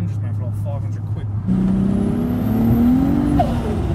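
A 604 bhp BMW 525D with a swapped Toyota 2JZ engine and a five-speed gearbox idles with a steady low drone, then jumps and climbs in pitch as it is revved. The engine is close and loud.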